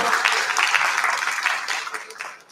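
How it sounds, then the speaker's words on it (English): Audience applause at the TiECon Delhi-NCR 2023 conference, a moderately loud, even spread of clapping that tapers off near the end of the short burst. "Can we have a big round of applause for that beautiful show?"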